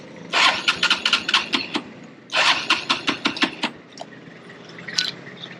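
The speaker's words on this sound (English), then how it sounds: "See if I can get my fucking bike to start." A motorbike in Thailand being kick- or crank-started, with two bursts of rapid sputtering, chugging strokes that fail to catch, followed by a short quieter pause and a faint clack.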